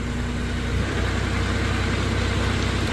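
A Kohler engine in a 2015 Moffett M8 55.3 truck-mounted forklift runs with a steady, loud, close idling drone for the whole stretch, with no voices over it.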